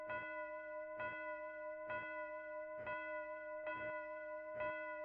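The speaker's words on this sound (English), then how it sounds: "Lights slowly fade to blackout as the sound of 10 clock chimes can be heard." A clock chimes ten times at a steady pace, about one stroke per second, each bell-like tone ringing on with sustained harmonics; no voices.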